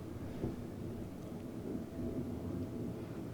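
A thunderstorm sound effect with a continuous low rumble of thunder and rain-like wash rolling on for a few seconds at moderate loudness, with no voices over it.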